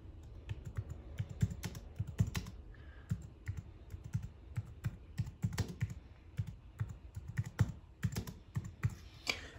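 Rapid keystrokes on a computer keyboard while entering an address, a close, steady clatter of clicky taps with brief pauses and a few heavier strikes, no voices.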